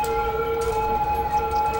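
Ambulance sirens in the city-building game Cities: Skylines, a steady electronic wail holding a few fixed tones, continuous and fairly loud across the whole stretch with no voices.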